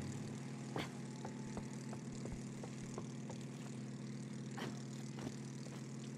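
A propeller airplane drones steadily in the It Takes Two video game, a constant engine hum with faint clicks and thumps, no talk.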